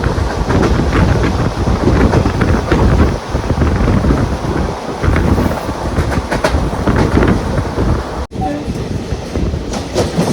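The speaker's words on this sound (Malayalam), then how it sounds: "അതിനിടയിൽ കൂടെയുള്ള ആ ഒരു ട്രെയിനിൻ്റെ ഒരു യാത്രയാണ്" A Kerala Superfast Express passenger train rolls past close by near Wadakancheri, a loud continuous rumble with rhythmic clattering wheels and heavy wind buffeting the microphone throughout.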